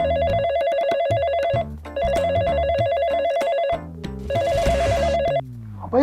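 Landline telephone bell ringing loudly in repeated bursts, three long rings separated by short pauses, with a busy rhythmic ringtone melody over low tones and no talking.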